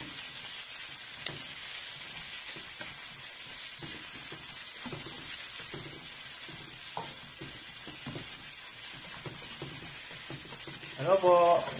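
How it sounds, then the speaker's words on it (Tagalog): Tomatoes sauté in a pan for ginisang monggo with chicken, giving a soft, steady sizzle with faint scraping stirs throughout, and a brief voice near the end. "Ayan, haluin natin ang ating kamatis."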